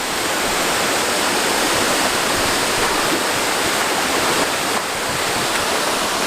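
A waterfall in Ilocos roars as a steady, dense wash of rushing water, loud and close throughout with no talk.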